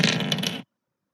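Dice rolling in the Catan video game, a short rattling clatter of about half a second, close and clear, then silence.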